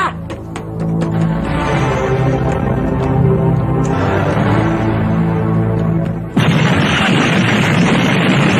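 A grenade explodes in a Filipino action movie: a thick, sustained rumble of battle noise is broken by a sudden loud blast that leaves a roaring wash of debris noise.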